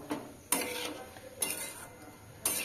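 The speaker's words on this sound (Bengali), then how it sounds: "এবার ভালো করে মিশিয়ে নেব।" Masoor dal being stirred in a pan on a gas stove, with three sharp scraping clinks of the utensil against the pan spaced about a second apart over a soft steady hiss.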